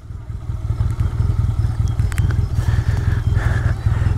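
A Honda Benly motorcycle idles on an off-road ride, a loud, close engine with a fast, even low pulsing throb and some light rattling clatter on top.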